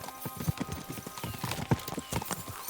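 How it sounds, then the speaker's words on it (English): Horses gallop in Kingdom Come Deliverance II, a steady run of quick clip-clop hoofbeats with a short whinny, close and fairly loud throughout. "We should spur the horses on."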